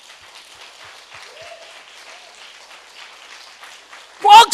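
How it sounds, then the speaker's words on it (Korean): A church congregation claps faintly and steadily for about four seconds at a distance, then a sudden loud voice cuts in at the very end. "박수 한번 쳐줘봐야지."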